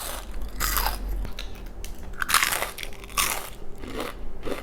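Crunchy Jack in the Box onion rings are bitten and chewed close to the mic, with repeated loud crisp crunches in an uneven rhythm.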